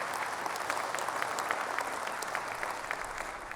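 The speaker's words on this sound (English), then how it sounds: "please, round of applause for the great work there." An audience at Sony's E3 2006 press conference applauds, a dense, sustained patter of many hands clapping across a large hall, steady throughout with no voices above it.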